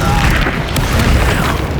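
In Hogwarts Legacy, the Incendio fire spell bursts out as a loud, roaring blast of flame that fills the whole moment with dense, booming rumble.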